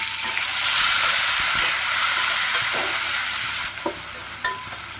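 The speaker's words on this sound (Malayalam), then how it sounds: "ഒരു രണ്ട് തക്കാളി ചെറുതായിട്ട് അരിഞ്ഞിട്ട് അതും കൂടി ഇതിൻ്റെ നമുക്ക് വഴറ്റിയെടുക്കാം" Chopped tomatoes sautéing in a beef curry base, a steady close sizzle and hiss with occasional scrapes of stirring, easing slightly toward the end.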